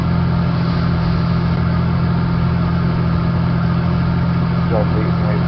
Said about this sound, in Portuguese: Já veio com esse motor aí de 700 cavalos.